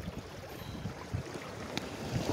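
Waves wash against a rocky shore while fishing, a constant rough roar of surf and wind, near and fairly loud with no break.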